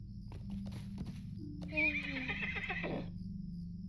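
A horse in The Lord of the Rings Online video game whinnies loudly near the middle, a rising and falling neigh over a low background rumble, with a few hoof clops around it.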